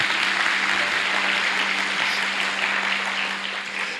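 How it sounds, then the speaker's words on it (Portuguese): A church congregation applauds during a worship service, a loud, dense and steady wash of clapping from many hands that fills the whole stretch with a low hum underneath. "Você poderia aplaudir o Senhor nessa hora."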